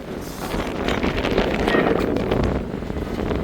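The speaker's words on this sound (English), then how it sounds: "this weekend they said it's going to be a lot of wind" Strong wind gusting outdoors in Miami, a steady loud rushing roar buffeting the microphone throughout with no talk.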